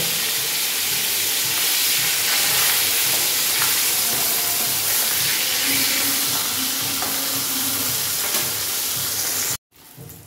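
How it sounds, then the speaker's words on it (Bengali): Brinjal frying in hot oil, a loud, continuous sizzle with faint stirring taps that stops abruptly near the end. "এবার বেগুনটাকেও ভেজে আমি তুলে নেব"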